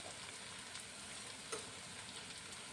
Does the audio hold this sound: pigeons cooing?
no